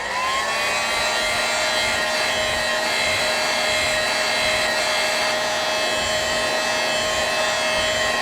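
Heat gun heat-setting muddy mixed paint on a soft plastic crawdad bait runs as a continuous close, loud whirring blower hiss with a steady tone throughout, no speech.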